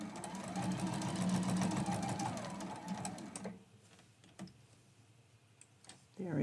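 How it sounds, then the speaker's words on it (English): Sewing machine stitching fabric up to a seam, a close rapid ticking hum for about three seconds, then stopping, with faint clicks and a voice briefly at the end. "I'm going to stop sewing right when my needle hits that seam"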